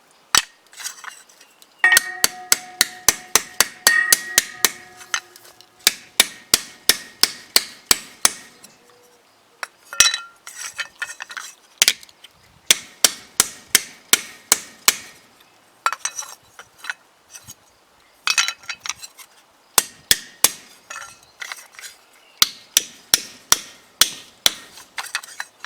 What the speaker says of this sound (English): I am using a smaller hammer than before for the finer work.